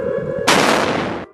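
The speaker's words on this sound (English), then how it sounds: "That's a railgun projectile." A railgun projectile fires in one loud, roaring blast lasting under a second, cutting in over a steady electrical hum.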